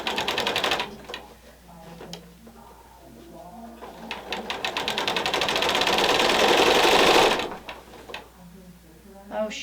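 A sewing machine runs a long continuous stitching burst along a red and white quilt seam, rising steadily in loudness before stopping abruptly; brief clicks and handling noises surround it, with a voice talking nearby.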